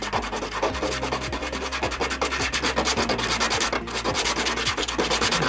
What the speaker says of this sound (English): I'm gonna flip this over so I get nice fresh sandpaper.